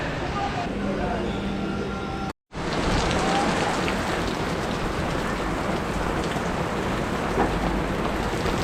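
Steady heavy rain falls on a surface in the Tigre Delta near Buenos Aires, a dense, loud hiss that continues almost unbroken, with one very brief cut.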